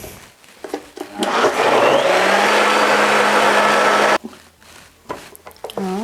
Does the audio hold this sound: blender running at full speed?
yes